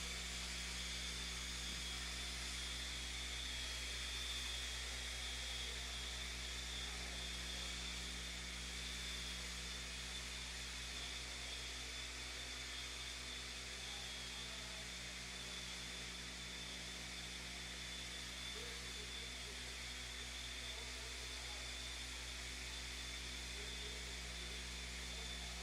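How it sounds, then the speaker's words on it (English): Leaf blowers clearing an off-road RC race track, a steady whining drone with a low hum running continuously, fairly distant and even, with no speech over it. "no laps until the blowers are finished"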